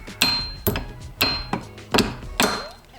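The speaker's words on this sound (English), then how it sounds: "This just taps on with the hammer." A hammer taps a snap ring onto a Toyota W56 manual transmission during a 4Runner and pickup rebuild: five sharp metallic strikes at an uneven rhythm, close and fairly loud, each with a brief ringing tail.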